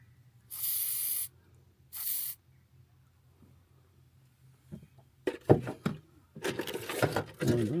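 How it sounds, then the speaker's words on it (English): CRC lubricant spray from an aerosol can is applied to an outboard motor on the back of a boat: two short hissing bursts, followed by quieter clunks and handling noises nearby. "Alright, so CRC first, give it a spray."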